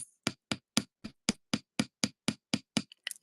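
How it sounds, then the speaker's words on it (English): A small hammer taps wire on a small anvil in eleven crisp, evenly spaced metallic strikes, close and loud, ending with a quick double tap; no voices. "basic hammer, and you can literally just tap this"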